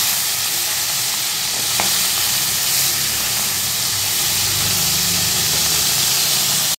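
Rui fish frying in hot oil in a kadai, a loud, continuous sizzle and hiss that holds steady throughout, with no talk.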